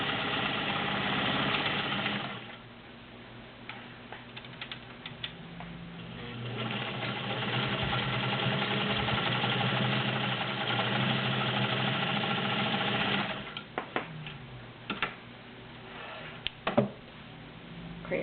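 A vintage White Model 530 sewing machine runs in steady stretches of stitching, its motor humming and whirring loudly, with a short pause around the third second and scattered clicks and taps near the end as the stitch width is adjusted.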